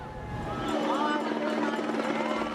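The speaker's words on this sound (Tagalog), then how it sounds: "Sa himpapawid, makikita ang mga helicopter ng Philippine Air Force na nagbubuhos ng tubig." Philippine Air Force helicopters drop water over a large residential fire in Tondo, their steady rotor drone filling the air beneath a voice talking throughout.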